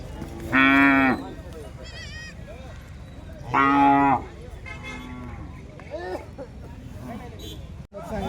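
Two loud, drawn-out moos from a nearby bull at the Peth Vadgaon bull market in Maharashtra, a few seconds apart, with quieter crowd chatter and shorter animal calls in between.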